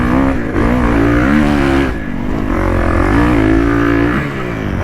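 A Kawasaki KX450 dirt bike with a brand new exhaust revs and pulls hard on a motocross track, its engine loud and close, pitch rising and falling through gear changes and throttle bursts.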